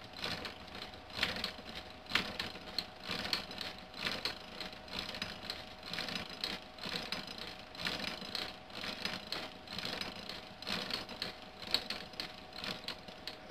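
Ajax hand-cranked boring machine cutting a hole into a 4x7 block of freshly milled Eastern White Pine, a faint, steady rhythmic clicking and grinding from the bit and gearing, with no voices.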